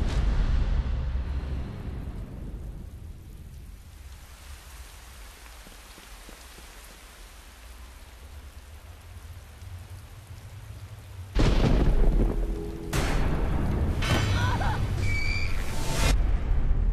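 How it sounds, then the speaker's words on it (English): A thunderstorm with steady heavy rain and rumbling thunder, with a loud close crash partway through and further sharp cracks after it, all loud and dense. "There's a storm coming."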